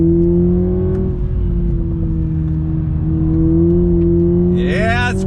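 A 2021 Toyota Supra 2.0 pulls hard in second gear on throttle, the loud droning engine note holding steady, then climbing sharply in pitch as it revs near the end.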